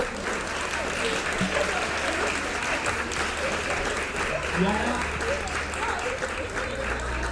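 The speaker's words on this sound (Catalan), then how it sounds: "Un fort aplaudiment," Steady, full applause from a gathered crowd at a school recognition ceremony for the Sambori 2023 awards at Pla de Montserrat, sustained evenly from start to finish.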